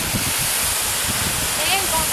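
The El Nicho waterfall in Cienfuegos, Cuba, gives a loud, constant broadband roar that fills the scene, with people talking faintly over it.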